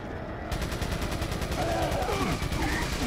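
Sustained gunfire in Resident Evil 4, a fast continuous barrage of shots unloading on an enemy, steady and loud with game sounds layered underneath.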